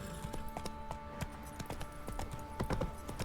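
Rhythmic clip-clop of a horse's hooves on the move in The Witcher 3, steady and moderately close, with faint background ambience and no talk.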